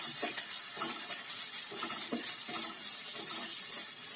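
Onions frying in hot oil with cumin, cloves and chillies, giving a dense, continuous sizzle close up, with a regular rhythm of stirring strokes and no talking.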